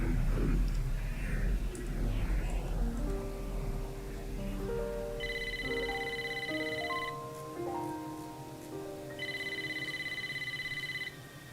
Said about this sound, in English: Your phone ringing.